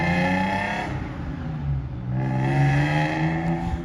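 BMW E36 drift car with a full exhaust and a new welded differential, its engine droning and revving steadily at close range late at night, with a brief dip in revs before climbing again.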